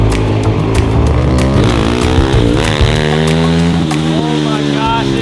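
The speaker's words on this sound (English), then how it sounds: "If anybody can wheelie a lawnmower, it's going to be Evan." A racing lawn mower's small engine revs hard during wheelies, loud and close, its pitch climbing and dropping as the throttle changes, with voices over it.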